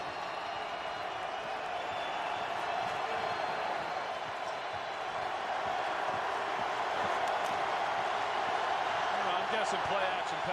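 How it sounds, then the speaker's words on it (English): A football stadium crowd roars loudly and without a break on fourth and goal as Green Bay plays at Washington, the dense cheering forming a wall of sound that swells slightly over time. "This crowd cranks it up on 4th and goal."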